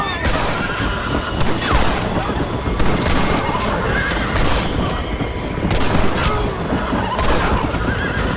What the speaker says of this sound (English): I'm telling you, Irish, that machine gun had better work after all this.